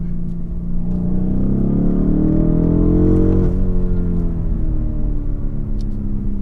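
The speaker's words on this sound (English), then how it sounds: "that V8 engine sounds great, and that crackling exhaust sounds really great" A 2019 BMW M850i xDrive's V8 pulls hard, a loud, close, rising engine roar that climbs steadily in pitch and then briefly dips, with rough exhaust texture running throughout.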